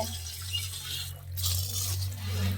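Water rushing strongly through a pipe from a household tap supply, a steady loud gushing hiss that swells and continues without pause, with no voices.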